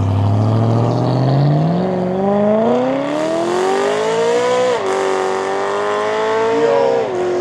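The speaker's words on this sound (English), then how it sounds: "Oh, the A4 is leaving." An Audi A4 accelerates away on a road, its engine note climbing steadily through the gears, loud and close, with a brief shift dip midway and no talk.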